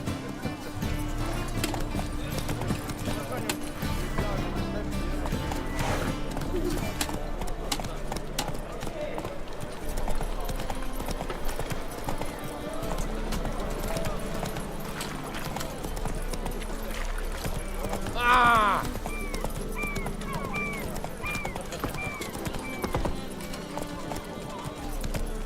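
Horse hooves galloping in The Witcher 3: Wild Hunt, a steady clip-clop under dense game music and effects, with a brief whinny partway through and a voice talking over it.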